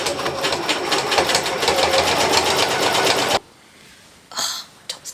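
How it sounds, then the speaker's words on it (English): A sewing machine fitted with a jeans needle and black thread top-stitches denim for a pair of jorts, running in a fast, steady rhythmic stitching burst that stops abruptly, followed by quiet handling noises. "Oh, top stitching."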